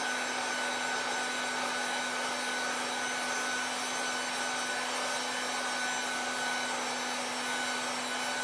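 A heat gun blows steadily throughout while warming PVC pipe for a horse bow, a constant close whooshing hum with no pauses.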